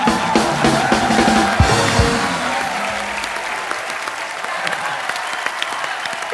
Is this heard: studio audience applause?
yes